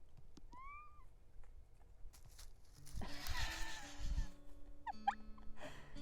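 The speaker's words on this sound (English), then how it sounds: "Curious little kitty." A cat meows a few times, short rising calls close by, with light background noise and a louder rustling stretch midway.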